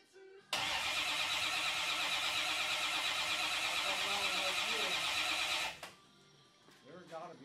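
A barn-find 1962 Chevrolet Impala SS convertible's engine cranks over continuously for about five seconds without firing, loud and close, then stops, with faint voices afterward.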